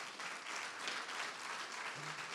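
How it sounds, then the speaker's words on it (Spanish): Steady congregational applause during a church preaching service, an even wash of clapping from many hands with no voices. "Un aplauso al Señor."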